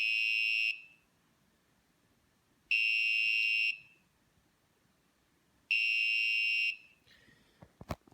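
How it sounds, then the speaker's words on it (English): A piezo buzzer driven by an Arduino as a homemade guitar tuner sounds a harsh, steady high tone at the A-string pitch three times, each lasting about a second and separated by gaps. A few faint clicks and handling noises follow at the end. "You just need to match the pitch to the pitch of the buzzer."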